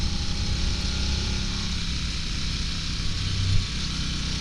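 A 2022 Harley-Davidson Nightster motorcycle engine while riding on the road, a steady close drone with broadband wind rush and no change in pace.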